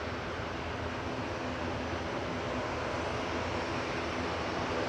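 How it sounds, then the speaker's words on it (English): A Vueling airliner touching down at Manchester Airport after a flight from Barcelona gives a steady, fairly quiet jet rumble, distant and even throughout with no talk over it. "we've got Vueling just touching down from Barcelona with flight"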